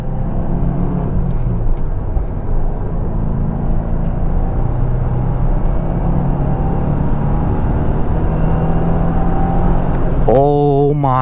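A 2024 Subaru WRX base model pulls through a steady acceleration from inside the cabin, its smooth engine a continuous low hum with road noise, and a rising whine near the end.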